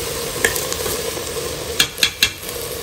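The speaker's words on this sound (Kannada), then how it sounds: "ಅಕ್ಕಿಯನ್ನು ಕೂಡ ಸ್ವಲ್ಪ ಇದರಲ್ಲಿ ಹುರ್ಕೋಬೇಕು. ಎಣ್ಣೆ ಮತ್ತು ತುಪ್ಪ ಹಾಕ್ಕೊಂಡಿದ್ದೀನಿ ನಾನು." Rice frying in oil and ghee in a pot while being stirred, a steady sizzle with several sharp scraping knocks of the spoon toward the end, close and alone with no voices.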